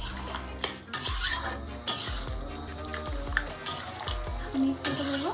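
A metal spoon stirs chili chicken in sauce in a pan, with repeated scraping clanks and clinks against the cookware in an irregular rhythm, close and fairly quiet, with a faint sizzle between strikes.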